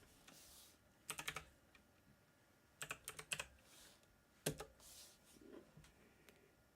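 Computer keyboard typing in short bursts of rapid clicks, three separate clusters with pauses between, close and fairly quiet against a faint background hiss.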